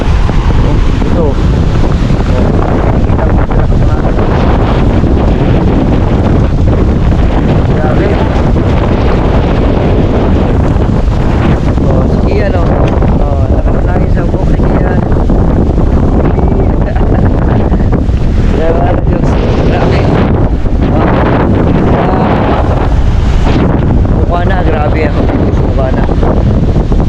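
Strong sea wind at Bucana beach buffets the microphone in a constant roar, with surf and waves churning underneath, loud and unbroken throughout.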